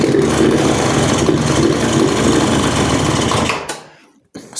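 An old moped engine runs loud, rough and uneven right after starting, sputtering for about three and a half seconds before cutting off, then a brief restart noise.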